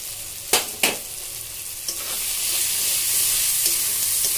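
Chili, coriander and cumin spice mix frying in hot oil, a steady close sizzle with two sharp crackling bursts early on and a rising hiss as the spices cook, no voices.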